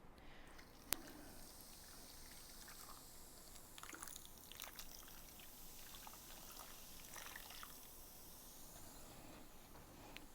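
Coke pours into a pan over brown sugar in a steady, faint fizzy trickle and hiss, with a single sharp tick near the start.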